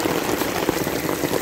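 Rain falls steadily in Acatlán de Osorio, Puebla, a dense even patter on surfaces that fills the whole short stretch with no voices.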